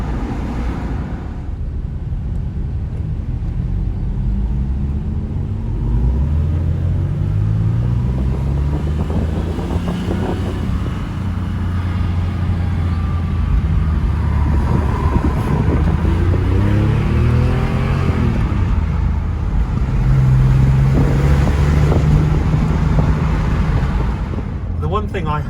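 A Porsche 996 911 engine drones steadily from inside the moving car during a convoy drive, its tone rising and falling through several gear changes as the car accelerates and eases off.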